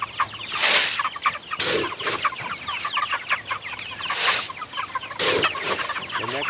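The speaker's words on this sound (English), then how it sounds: "these are our first batch of meat birds we've got for the year" A first batch of meat chickens cluck and chatter close by, busy overlapping calls with several louder squawks breaking out at intervals.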